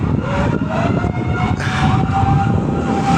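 A loud, continuous fire truck siren wails steadily over heavy rumbling traffic near Intramuros, Manila, as fire trucks respond to a fire, close by and without pause.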